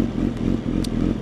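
A Kawasaki ZX-10 motorcycle being ridden, a steady loud engine roar mixed with wind rumble throughout a short stretch, with no talking.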